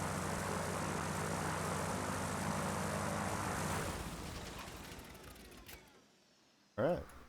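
Steady propeller aircraft engine drone from the video game Kentucky Route Zero, loud and continuous for about four seconds, then fading and cutting out, followed by a brief burst near the end.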